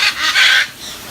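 A bird gives two quick nasal honks close by, the second longer, followed by a fainter trailing call with no talking.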